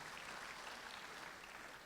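Church congregation applauding at a service, a dense, steady wash of many hands clapping together, faint and distant throughout without a break.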